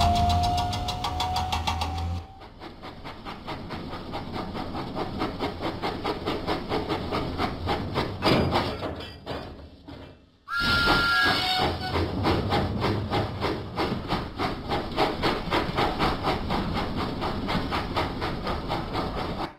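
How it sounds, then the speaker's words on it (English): Thomas the steam engine from a video game puffing out of the docks, a steady loud chugging rhythm with bright hissing and game sound effects layered over it, briefly dropping out near the middle before resuming. "Thomas pumped his pistons and puffed out of the docks."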